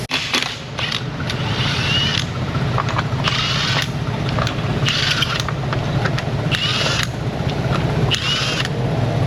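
A Chevy van engine running rough in an auto repair shop, a steady, uneven mechanical chatter and rattle with recurring bursts of higher scraping, fairly loud and close.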